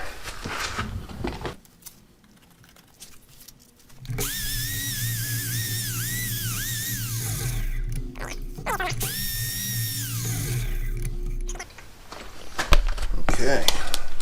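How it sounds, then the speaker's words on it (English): Sandpaper worked lightly against a wooden salad bowl spinning on a wood lathe, giving a steady whirring hiss with a faint whine, broken by a short pause and then resuming before the motor hum carries on alone. "I think I will jump to 220 just to give it a light sanding"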